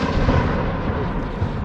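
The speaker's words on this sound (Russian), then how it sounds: "Это выстрел с крупняка." A heavy machine gun firing at a distance in a war-zone city, heard as a dense, rumbling boom with a rolling low-end tail that lingers across the whole moment, with no speech over it.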